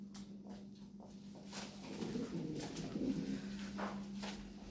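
Lahori pigeons breeding in their own cage give low, rolling coos, faint and close over a steady electrical hum, with light scratching and shuffling patter in between and no talk.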